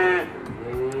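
A cow at a livestock market gives a single short, close moo, with faint background noise around it.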